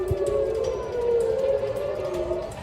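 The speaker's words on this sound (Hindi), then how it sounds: "शहर की फिजा में गूंजता ये सायरन" A missile warning siren in Tel Aviv wails in a steady sustained tone across the whole moment, loud over a low background rumble.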